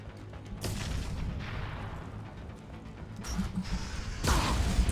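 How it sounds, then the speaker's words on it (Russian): Explosions and rumbling from the Mass Effect video game, a dense, steady wall of low roaring noise with sharper bursts near the end, loud and continuous with no talk. "все взрывается, что-то грохочет."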